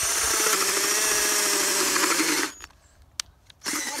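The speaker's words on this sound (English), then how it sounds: "drilled a very deep hole and I'm going to fill it with gravel." A power drill bores a deep hole into clay garden soil, a steady loud mechanical whir that runs alone for about two and a half seconds, then cuts out abruptly, leaving near-silence broken by a brief click before noise resumes.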